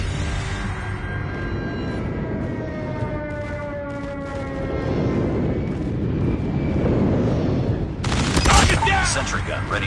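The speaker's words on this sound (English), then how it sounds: "Friendly airstrike incoming." Call of Duty deathmatch gameplay with a friendly airstrike and gunfire: dense, continuous battle noise with rumbling blasts and rapid shots, building toward a bright, loud burst near the end, with game voice callouts mixed in.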